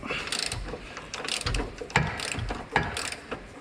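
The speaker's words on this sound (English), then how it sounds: "I'm going to have another go with a 6-sided socket and do it by hand" A six-sided socket ratchets a stuck bolt loose by hand during MGF engine and subframe removal, giving bursts of clicking pawl strokes in an uneven rhythm, close and fairly loud with no talk.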